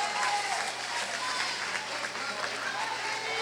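Steady applause and scattered cheering from spectators at a 2009 National Veterans Wheelchair Games swimming race as a swimmer finishes, a continuous wash of clapping heard from a distance under a faint voice.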